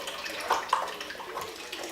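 Hot tap water runs steadily while a Follett E78 ice maker is rinsed, a soft continuous splashing hiss at moderate level with a couple of brief clinks, no talking.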